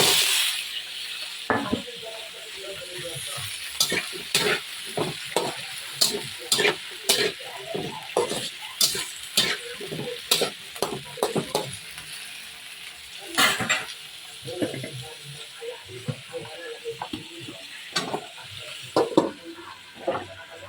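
Mixed vegetables fry in a pan while a spatula stirs them briskly, sending a loud, busy run of scraping clicks and knocks over a constant close sizzle.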